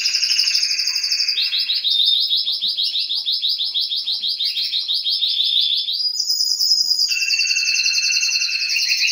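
Several small cage birds in a home aviary chirp and trill continuously in rapid, high-pitched repeated phrases, close and fairly loud, with no talking over them.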